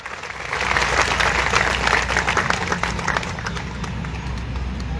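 A large crowd at a political gathering in Lunawada, Mahisagar, claps loudly with raised hands, a dense roar of many palms that swells quickly, stays strong, then eases slightly toward the end.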